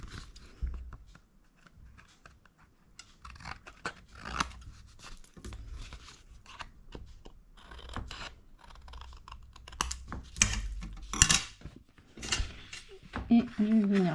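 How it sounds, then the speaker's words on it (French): Scissors snip through paper while a photo album page is trimmed, giving several short crisp cuts and scratchy rustles close up, with a person talking in between. "Avec mon ciseau, je vais couper"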